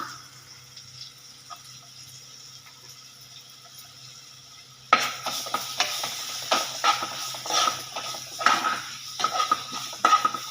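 Chopped onion dropped into hot oil with chili powder for a fish curry, a sudden burst of sizzling and spattering midway after a quiet start, then crackling and stirring scrapes close by.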